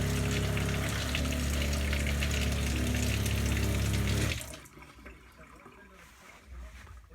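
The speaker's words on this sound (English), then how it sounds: "now I can turn my sink on with the handle" A household sink tap turned on by its handle sends a loud, steady rush of running water for about four seconds before it cuts off abruptly, leaving only faint room noise.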